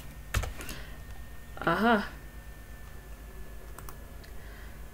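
Fast, clicky keystrokes on a computer keyboard sound as git commands are typed, in scattered bursts around a brief spoken interjection.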